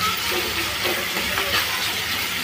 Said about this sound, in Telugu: ఉప్పు వేసుకొని ఒకసారి కలిపేసి దోరగా ఫ్రై చేసుకోవాలి.